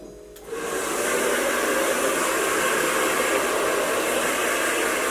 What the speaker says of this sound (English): Take your blow dryer.